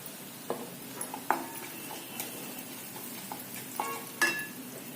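Onion sautéing in a pan as turmeric and asafoetida powder go in, with a soft, faint sizzle broken by a few light stirring scrapes and clinks of a spoon against the pan.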